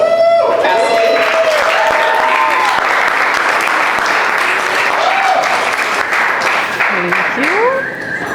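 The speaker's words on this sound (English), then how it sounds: "let's do a little round of applause for the girl that we all love, Cassidy" Loud, sustained applause from a live comedy show audience, filling the room for about eight seconds with steady clapping while a tonal music line runs underneath and some voices mix in.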